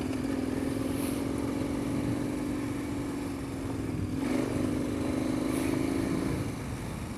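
A KTM 1090 Adventure R motorcycle is ridden off-road, its engine droning steadily and loudly throughout with a slight rise in pitch midway, mixed with continuous wind and road rumble.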